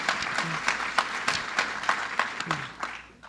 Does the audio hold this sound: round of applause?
yes